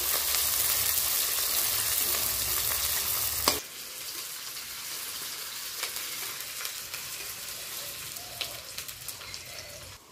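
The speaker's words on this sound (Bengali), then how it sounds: "পেঁয়াজটা একটু লাল লাল করে ভেজে নিচ্ছি" Chopped onion frying in a pan until reddish, giving a loud, steady sizzle that suddenly drops to a quieter simmer partway through, with light crackles and pops continuing alone.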